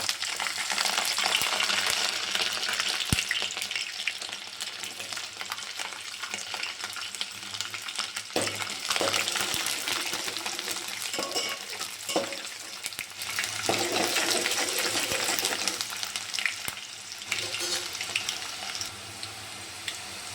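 Garlic frying in hot oil with fenugreek and peppercorns for a garlic kuzhambu, a steady loud sizzle running throughout with occasional stirring scrapes and clatter, no talking.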